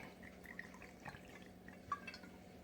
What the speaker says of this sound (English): we're gonna pour it in this glass